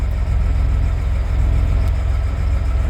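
A steady engine hum with a low, throbbing idle-like rumble, continuous and fairly loud throughout, with no clear rise in pitch.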